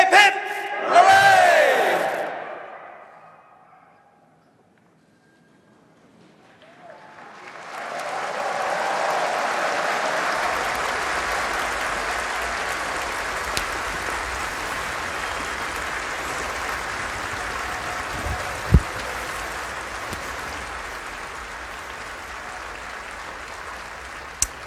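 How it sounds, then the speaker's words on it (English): Outdoor crowd at a royal proclamation for King Charles III, a short burst of cheering gives way after a lull to a long, sustained round of applause and cheers from a large gathering at some distance. "A huge cheer, a huge round of applause from the crowd there watching the second proclamation of the day"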